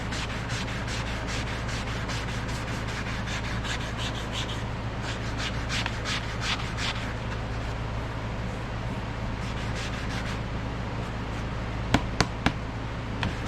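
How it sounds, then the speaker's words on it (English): A knife blade is rubbed by hand with 100 grit sandpaper, giving a steady, close scratchy rasp that runs continuously over a constant low background hum, with a couple of sharp knocks near the end. "Normally start with 100 grit paper. Takes a little while to do these normally"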